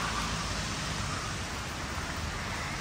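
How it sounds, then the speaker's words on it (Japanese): Steady rain falls at a Buddhist temple, Zenkoku-ji, in Tokyo in March, a continuous even hiss with no talking. "あ雨ですね"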